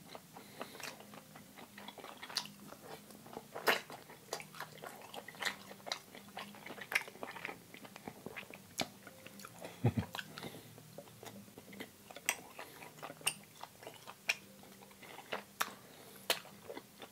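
Chewy spicy rice cakes in a vegan meal are chewed close to the mic, producing soft wet squishes and frequent crisp clicks in an uneven rhythm, with no talking.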